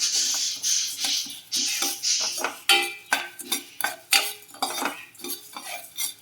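Curry leaves frying for spice powder while being stirred in a pan, with rhythmic metallic scrapes and clanks of a spoon against the pan, close and loud, repeating every half second or so, no voices.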